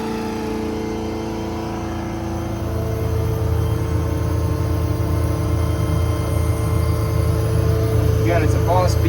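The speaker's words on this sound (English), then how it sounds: "it starts the compressor up" Boss BA440 hydraulic compressor on a 2019 Ford F550 service truck with a 6.7 diesel kicking on: an idling engine hum steps up into a louder, steady mechanical drone, close by and continuous.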